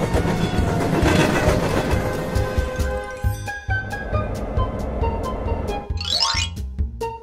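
A high-speed train rushes past with loud, dense rumbling and rhythmic clatter of wheels over rails, followed by a brief high-pitched screech near the end.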